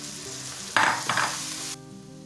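Ground tomato added to spices frying in a pan for an aloo gravy curry, making a sudden loud sizzle that swells twice in quick succession and then cuts off abruptly into quiet.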